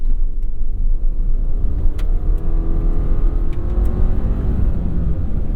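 A 2024 Subaru Crosstrek rolls along a dirt road with a steady, close engine drone and tyre rumble, the engine note rising and falling slightly, with no talk over it.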